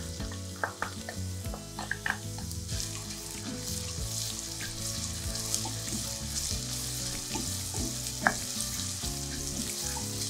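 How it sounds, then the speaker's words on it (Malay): Finely chopped ingredients sizzle steadily in plenty of hot oil while being sautéed for a peanut sauce, with occasional soft stirring clicks and scrapes over the constant frying hiss. "Tumis bahan cincang halus sampai kekuningan"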